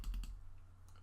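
Computer mouse clicks at a desk while working in Photoshop: a few quick, faint, close clicks in rapid succession, then one more isolated click, over quiet room hum.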